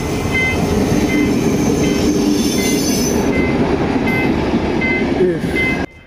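A train rumbles past close by, a steady loud roar of wheels on rails with faint squeals, cutting off abruptly near the end.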